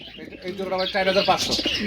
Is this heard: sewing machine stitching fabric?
no